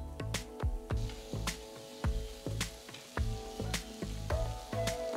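Chopped tomatoes sizzle in a masala of coriander powder and salt in a pan for a Kerala-style chicken curry cooked in coconut oil, with repeated sharp scraping strokes of a spoon as they are mixed, close and steady with no talking.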